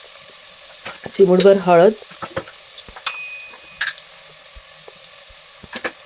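Masala spices for mutton sukka sauté in a hot pan with a steady, close sizzle, while someone briefly speaks over it and faint clinks of a spoon come and go.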